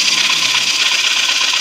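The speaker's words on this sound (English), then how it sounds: "see the way the sandpaper goes" Steady, loud abrasive rasping of sandpaper rubbed against wood coated with sanding sealer, a continuous close-up scratchy hiss with no talking.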